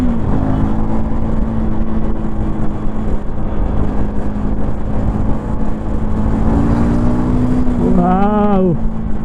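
A KTM Duke 390 motorcycle accelerating hard in third gear, its steady engine drone loud and close throughout, rising in pitch near the end as the revs climb.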